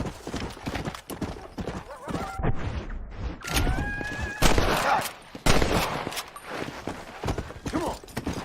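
A horse gallops in the video game Red Dead Redemption, with rapid, close hoofbeats running throughout alongside whinnies and bursts of gunfire. A voice speaks over the galloping.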